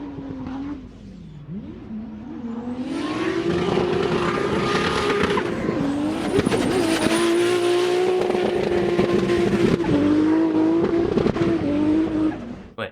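A drift car's engine revs hard and steadily at close range while tires squeal and skid through a long slide, the loud roar sustained throughout.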